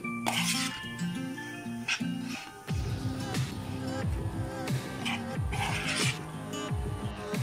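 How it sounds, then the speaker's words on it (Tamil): Beef being mixed by hand with red chilli powder, turmeric and salt in a bowl, giving soft rubbing and squelching plus occasional clinks of dishware, with background music playing throughout. "இப்போ இத நல்லா மிக்ஸ் பண்ணிக்கோங்க."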